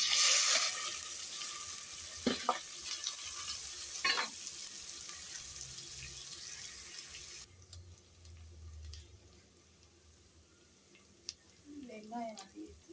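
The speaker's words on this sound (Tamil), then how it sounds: "வெங்காயம் வதங்கிச்சு" Onions frying with mustard seeds in oil, a steady close sizzle that softens midway, with occasional stirring clatter and a brief voice near the end.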